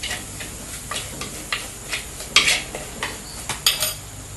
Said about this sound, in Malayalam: ഇനി ഇതൊന്നിങ്ങനെ ഇളക്കി കൊടുക്കുക.